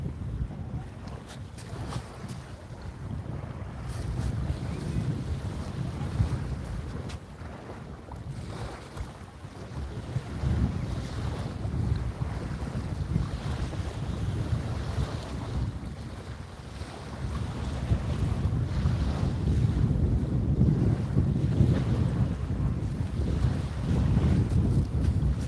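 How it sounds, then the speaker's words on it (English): Wind buffets a saltwater fishing boat out on the water, a continuous low rumbling roar of wind against the microphone that rises and falls over time, loud and close, with faint water sounds beneath and no talking. "It's definitely windier today. The wind kind of makes the rods move around a little bit."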